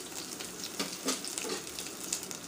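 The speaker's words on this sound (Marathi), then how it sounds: "तेल छान गरम झालेलं आहे. त्यानंतर इथे कढीपत्ता मी टाकलेला आहे थोडा, हिरव्या मिरच्या आणि ठेचलेलं लसूण." Curry leaves, green chillies and crushed garlic sizzle steadily in hot oil, a close, dense crackling hiss with small popping spikes throughout.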